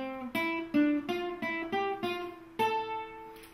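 A guitar plays two measures of single notes from a beginner method exercise, about eight distinct plucked tones in a steady rhythm, each ringing briefly, close and fairly quiet with no voice.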